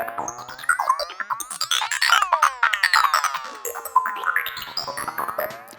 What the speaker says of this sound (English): Now, the next preset is psychedelic anime.